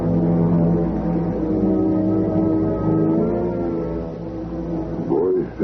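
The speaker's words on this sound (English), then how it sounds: "His car's stopping outside." An old-time radio drama sound effect of a car pulling up and stopping outside, heard as a loud, continuous droning engine hum that wavers and dips near the end.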